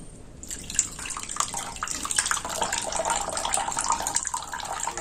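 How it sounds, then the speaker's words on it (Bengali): Water drains from freshly made chhena through a cotton cloth, with a continuous trickle and patter of liquid that begins about half a second in and carries on steadily close by. "এটাকে আমি এইভাবে জল ঝরিয়ে নেব"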